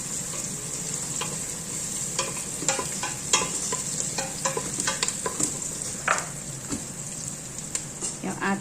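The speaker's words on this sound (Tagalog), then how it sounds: "Gisa na natin ang ating lamas." Seasonings sauté in a pan with a continuous bright sizzle, while frequent quick taps and scrapes of a utensil stir through them. The sound is close but fairly soft, and a voice is faintly audible now and then.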